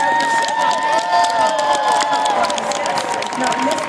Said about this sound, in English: Please give them a round of applause and be sure to check out the